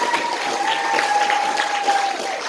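Wedding guests clap during a speech, a steady wash of applause from the room running throughout, with a faint tone ringing over it.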